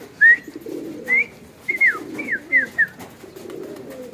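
Pet pigeons coo in a soft low murmur, joined by several sharp, rising bird chirps spaced irregularly over the few seconds, with no talk.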